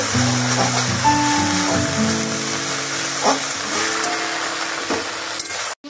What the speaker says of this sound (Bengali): এবার জাস্ট পাতাটা একটু কড়াইয়ের মধ্যে সাঁতলে নিচ্ছি।